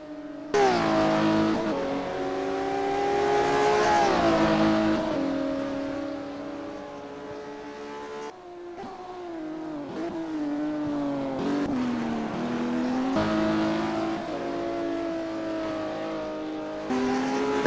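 Classic Porsche Cup race cars in the Automobilista 2 sim-racing game roar continuously, engines rising and falling through gear changes with a brief drop in pitch midway, loud and close with no talking.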